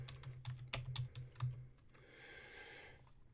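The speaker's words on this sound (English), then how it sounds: "I don't know why I have to keep typing this out." Fingers tap quickly on a computer keyboard at close range. A fast, uneven run of clicking keystrokes lasts about two seconds, then gives way to a soft airy hiss with no voices.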